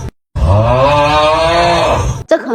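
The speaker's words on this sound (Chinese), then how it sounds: "打鼾像牛叫" Snoring that sounds like a cow's drawn-out moo: one loud, sustained, buzzing low tone that lasts about two seconds after a brief silence, then stops abruptly.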